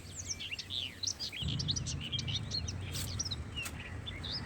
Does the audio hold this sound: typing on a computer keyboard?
no